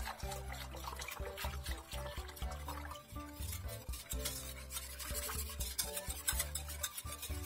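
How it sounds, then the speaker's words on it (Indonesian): A spoon stirs a silky pudding mixture after water has been poured in, giving soft liquid swishing and light clinks against the pot, steady and close over faint background music. "Tuang air. Aduk-aduk hingga tercampur rata."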